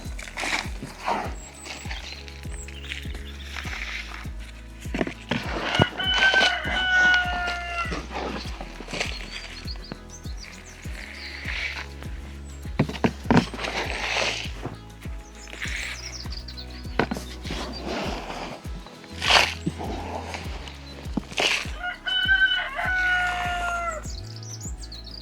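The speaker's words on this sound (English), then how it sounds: "I hope you can hear me over this chicken crowing." A rooster crows repeatedly, loud and nearby, over bird chirps and the broad rustle of an outdoor container garden during a heatwave harvest of potatoes.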